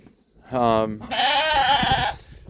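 Sheep on a homestead farm bleat twice up close, a short wavering call followed by a louder, longer, quavering bleat, with a faint low background rumble.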